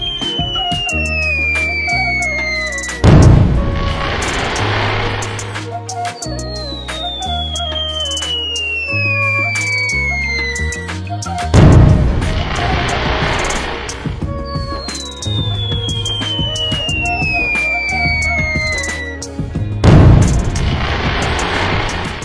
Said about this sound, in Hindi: सबसे पहले चुन्नी एक 9 शॉट्स वाला स्काई शॉट जलाता